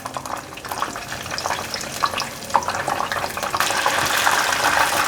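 Oyster mushrooms deep-frying in hot oil make a dense, steady crackle and sizzle up close, swelling a little louder toward the end, with no voices.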